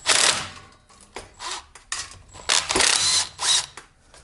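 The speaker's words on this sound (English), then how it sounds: "so I need to drain the drive oil, so I'm just going to loosen this." Ratchet wrench loosens the drive oil drain bolt with copper washer on a scooter's final drive, several bursts of rapid clicking separated by short pauses, close and fairly loud, no talking.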